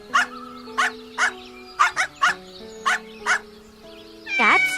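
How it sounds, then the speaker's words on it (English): Eight or nine short, evenly spaced woofs from a guard dog sound in a cartoon-like scene against a soft musical backdrop, followed by a sudden animal cry at the end. "Dogs guard our house."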